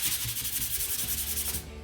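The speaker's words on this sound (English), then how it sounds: "you're going to use that to sand in the direction of the grain to smooth that out" Laser-cut wood is sanded with 400 grit sandpaper along the grain, a steady close rubbing rasp in even back-and-forth strokes that stops near the end.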